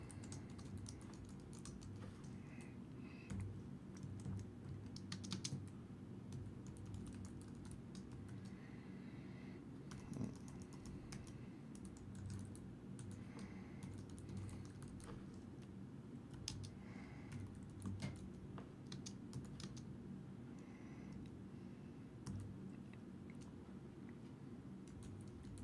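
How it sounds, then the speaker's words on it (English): Continuous computer keyboard typing at a steady, moderate level, with irregular key clicks running throughout against a low background hum and no talking. "So let's type this out."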